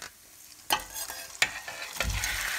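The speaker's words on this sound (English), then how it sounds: "Okay, so here's my shrimp. Now I'm just going to go ahead and add it with the butter." Shrimp, 1.5 pounds of it, drops into melted butter in a pan for shrimp scampi: a quiet start, two sharp stirring scrapes, then a sizzle that swells and holds close and steady.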